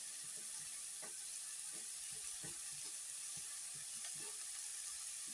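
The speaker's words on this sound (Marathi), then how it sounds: "इथे हा हिंग गरम करून घेते" Asafoetida (hing) heating in hot oil in a pan gives a quiet, steady frying sizzle, with a few soft knocks and stirs scattered through it and no talking.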